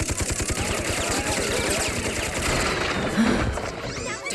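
Rapid, sustained machine-gun fire from Aigis's finger guns in a Persona video game, a dense continuous rattle of bursts lasting several seconds with no pauses.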